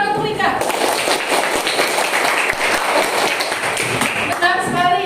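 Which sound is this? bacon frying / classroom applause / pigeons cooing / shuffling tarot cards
classroom applause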